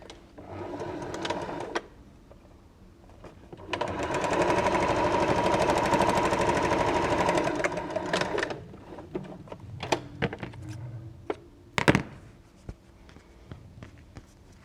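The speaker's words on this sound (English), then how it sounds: "So we're just going to sew these end to end." A sewing machine stitches quilt pieces end to end in one steady run of close, loud whirring lasting several seconds, with quieter clicks and handling noises before and after.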